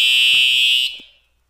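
A True Alert fire alarm blares loud and steady as a sustained high electronic tone, then cuts off and fades over about a second, with no talk.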